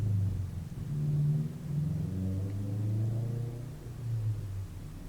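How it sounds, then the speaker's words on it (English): Cars roar past on a noisy nighttime road, a low rumbling drone that swells and fades as vehicles pass, heard from indoors with no talk. "I can hear all kinds of cars roaring by."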